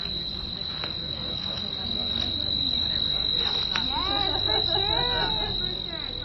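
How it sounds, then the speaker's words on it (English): Crickets in Zion National Park chirp in a dense, steady high trill that runs throughout. People murmur and talk faintly in the background underneath. "I thought I'd start out with some crickets and some humans enjoying Zion National Park"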